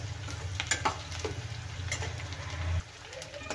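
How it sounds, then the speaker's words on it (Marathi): Onion frying in oil until golden, a steady sizzle with scraping stirring clicks and a low hum, fairly close, with faint voice-like sounds in the background. "कांदा आपल्याला तेलामध्ये गोल्डन होईपर्यंत भाजून घ्यायचा आहे"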